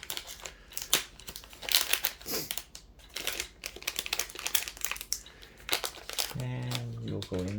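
Crinkling of a plastic bag as a pen is tucked back inside during a cleanup, with broadband rustles through most of the stretch, a brief sustained tonal sound near the end, and speech throughout.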